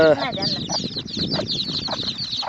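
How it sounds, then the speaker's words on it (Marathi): Chickens kept at a shepherds' camp clucking nearby, a run of short repeated clucks and squawks with some background murmur. "या कोंबड्या म्हणजे आपल्या मेंढपाळाच्या वाड्यावर म्हणजे उदरनिर्वाहासाठी या अशा कोंबड्या असतात"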